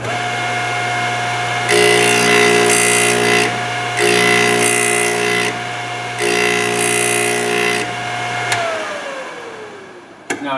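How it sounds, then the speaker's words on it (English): A Thorvie AV-40 sharpening machine grinds the edge of a hole saw: a steady motor hum with a constant whine, broken by three harsh, loud grinding passes before the motor winds down and stops. "I'll probably give it about 3 grinding passes to get a new edge on there."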